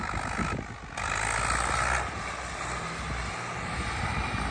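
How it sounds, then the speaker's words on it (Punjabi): Agriking 2055 4wd tractor with a 3-cylinder 3120 cc engine and Bosch inline pump, running with a steady, loud rumbling drone that dips briefly early on and then holds even throughout. "ਕਲੋਸ ਕਰਦਾ 3120 cc ਦਾ ਇੰਜਣ ਆ, 3 ਸਿਲੰਡਰ ਇਨਲਾਈਨ ਪੰਪ ਦੇ ਨਾਲ ਜੀ"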